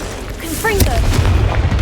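A fire spell explosion from the Hogwarts Legacy video game bursts with a loud low boom and crackling rumble, preceded by a short whooshing magical sweep and a voice calling out.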